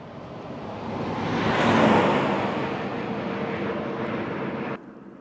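A truck passes on a busy road, its broad rumbling roar swelling as it draws near, peaking, then fading away before cutting off abruptly, with no voices.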